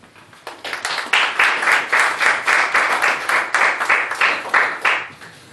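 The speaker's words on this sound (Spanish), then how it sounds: "Denle un aplauso al Señor." Loud, close congregation clapping during Spanish-language church worship, many hands falling into a strong rhythmic beat that keeps a steady pulse from start to finish, with no voices over it.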